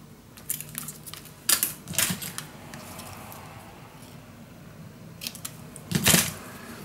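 Scissors snip through piano-patterned paper strips for a Graphic 45 Love Notes mini album, a few sharp crisp cuts spaced apart, close and fairly quiet.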